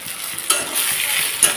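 A whole tomato drops into browning onions for mutton curry, followed by a loud sizzle and stirring scrapes with two sharp bursts of crackle.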